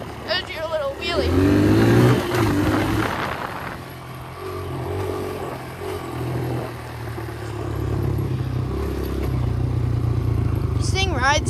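Dirt bike engine revving hard as the rider lifts into a wheelie, a loud rising drone that settles into a steady growl, with someone talking over it at the start.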